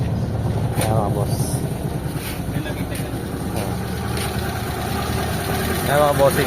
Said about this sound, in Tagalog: umaandar yung makina niya